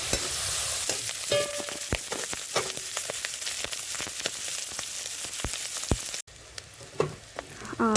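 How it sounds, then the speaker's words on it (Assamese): River snails, cleaned and pre-boiled, fry in hot oil seasoned with salt and turmeric, giving a steady close sizzle broken by frequent sharp crackles and spatters, easing to a quieter sizzle near the end. "এখনত তেল গৰম হ'বলৈ দিছোঁ আৰু ইয়াত মই চাফা কৰি লোৱা শামুকখিনি দি দিছোঁ।"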